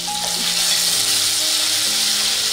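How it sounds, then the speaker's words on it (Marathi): Cumin seeds and green chili paste fry in hot ghee for sweet potato kees. A steady, close sizzle holds at an even level throughout, with no talking. "आपण 2 चमचे तूप गरम करून घेतो. त्यामध्ये आपण 1 चमचा जिरं घातल्यानंतर आपण ह्यामध्ये हिरवी मिरचीची पेस्ट किंवा मिरचीचे तुकडे काही सारे हे घालतो."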